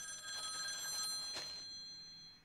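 A cartoon telephone bell rings from a banana phone in a My Little Pony episode, a steady bright electronic ringing with a brief louder burst before it fades.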